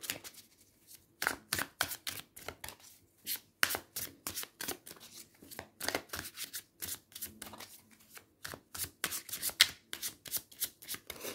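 Tarot cards shuffled for a three-card draw, a close, rhythmic series of quick riffling card slaps in repeated bursts, with no talking.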